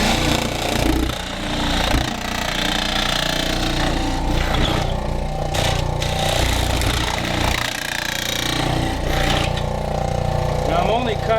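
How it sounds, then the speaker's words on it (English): A jigsaw cutting into a plastic bucket for a Duke 220 Conibear bucket trap set, buzzing loudly and continuously up close for about eleven seconds, with the pitch shifting as the blade works through the plastic. "I just got a jigsaw here"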